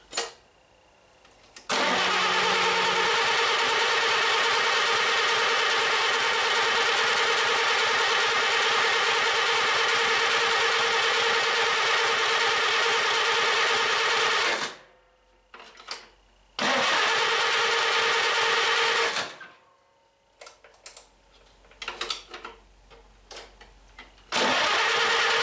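A Farmall tractor engine cranks and starts after a tune-up, then runs steadily at a loud, close idle for about thirteen seconds, cuts out, restarts briefly, and sputters intermittently toward the end.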